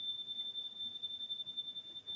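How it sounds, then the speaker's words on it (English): A personal alarm goes off with a thin, steady, high-pitched electronic tone that holds without a break over faint room noise. "My alarm is just going off."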